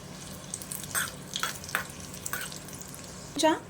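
A bay leaf and spices fry in hot oil in a pan, a soft steady sizzle punctuated by a few faint pops and crackles, with a slightly louder spatter near the end.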